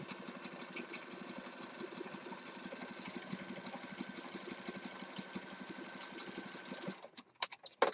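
A sewing machine stitches steadily around the edge of a yellow junk journal piece, its fast even needle chatter continuous for about seven seconds before stopping, followed by a few brief handling knocks and clicks.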